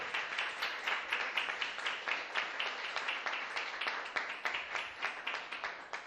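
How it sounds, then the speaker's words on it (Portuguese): A church congregation claps during a worship service, a rapid, fairly even run of hand claps that continues steadily, somewhat distant and moderately quiet, with no talking over it. "Aplauda o Senhor."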